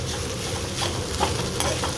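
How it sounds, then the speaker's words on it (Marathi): Leftover rice stir-fried in a hot tempering of onion, green chili and curry leaves for phodnicha bhaat, giving a dense, continuous sizzle with soft stirring scrapes throughout. "तो दोन्ही मिळून मी भात फोडणीच टाकते"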